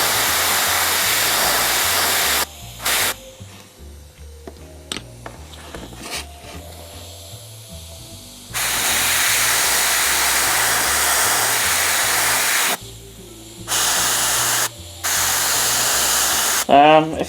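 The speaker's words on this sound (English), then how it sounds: "Now I do apologise for the noise once the air compressor kicks in." An air compressor feeding an airbrush, used to paint engine glow on a miniature jump pack, cuts in and out in long steady hissing runs broken by quieter gaps, loud and close.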